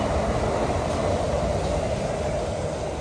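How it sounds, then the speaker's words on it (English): A Disneyland monorail glides past, a steady broadband rumble with a whooshing hiss that holds loud and even for the whole moment, with no voices over it. "Oh, here goes the monorail."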